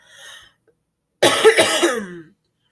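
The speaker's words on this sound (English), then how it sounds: "Sorry for coughing, but I'm sick." One faint cough from a sick person, a pause, then a louder rough cough close to the microphone.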